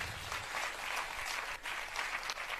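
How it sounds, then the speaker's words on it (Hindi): An audience at the Bundeli Samagam 2025 gathering applauds for Bundelkhand, a dense, steady wash of clapping heard from a distance and fairly faint, under three seconds. "एक बार हम अपने बुंदेलखंड के लिए जोरदार ताली बजाएं"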